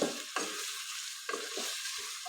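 Chopped onions softening in hot oil in a pan for an aloo bhindi fry, a soft sizzle broken by a few scraping stirs of a spoon against the pan, close and moderately quiet.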